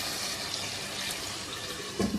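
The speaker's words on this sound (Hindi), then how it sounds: "1/4 प्याली पानी की शामिल कर देंगे।" Water splashes and trickles steadily into a pot of frying mutton curry, a continuous pouring rush with a slightly heavier splash near the end.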